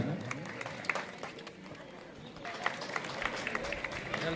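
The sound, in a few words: audience applause welcoming a guest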